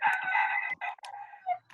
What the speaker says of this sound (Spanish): ese gallo cantó muy tarde.